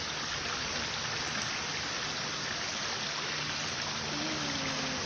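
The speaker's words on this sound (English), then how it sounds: "We are just sitting down right here, listening to the beautiful water" A river flows steadily nearby, with a dense, even wash of rushing water that continues without a break and no talking over it.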